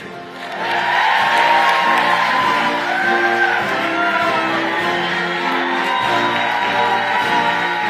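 A large rally crowd for President Biden in Raleigh cheers, whoops and shouts continuously, a loud sustained roar of many voices with scattered applause filling the whole stretch.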